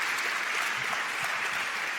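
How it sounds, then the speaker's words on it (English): An audience at a live-streamed Seattle conference day applauds steadily for a couple of seconds, a dense wash of clapping with no voices over it. "Let's give them a round of applause."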